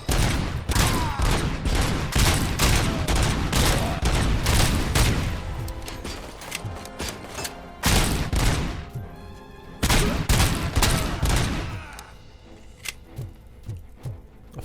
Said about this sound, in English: Let's have a go with a classic pistol.